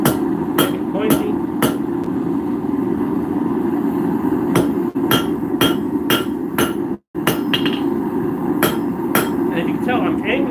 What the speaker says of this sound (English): I'm angling my hammer, so it's not hitting straight down.